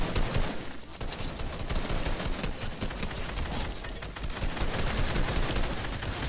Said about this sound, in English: He shot right through the wall.